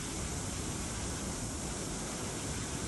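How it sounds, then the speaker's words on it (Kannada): Surumane waterfall in the Malnad hills swollen by monsoon rain, a dense, constant roar of falling water filling the air with no voices. "ಸೂರುಮನೆ ಫಾಲ್ಸ್. ಇದು ಇನ್ನೊಂದು ಫಾಲ್ಸ್ ನೋಡಿ."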